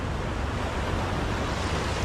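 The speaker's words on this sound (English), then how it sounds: "These waves are non-conducive for surfing" Ocean waves break on the shore at Galveston, a loud, continuous wash of surf with steady wind rush across the microphone and no distinct individual crashes.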